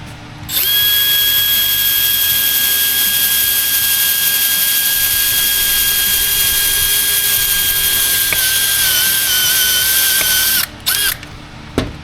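A THINKWORK mini step bit in a 1/4 inch drill driver bores through 22 gauge sheet metal without a pilot hole, a loud steady high-pitched whine held for about ten seconds, then stopping abruptly with a few short bursts.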